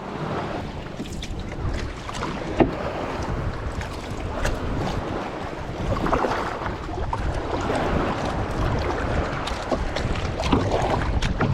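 A small fishing boat out on the ocean rocks on the waves, with water sloshing and splashing against the hull and gusts of wind over the microphone, continuous and close with no talking.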